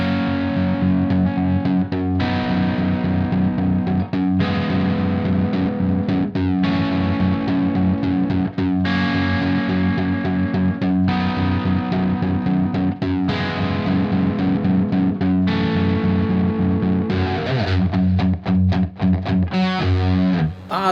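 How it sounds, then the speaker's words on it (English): Distorted electric guitar holds a static bass pedal note while chord triads shift above it, in the style of a rock song, played loud and continuous with rhythmic chugging and short breaks between chord changes. "the sound of a static bass note with some chord triads being superimposed on top of it"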